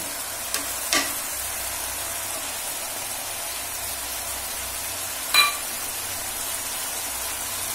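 An egg is cooked in a pan of bubbling curry, with a soft, steady simmer and sizzle underneath and a couple of brief clinks of utensil against the pan.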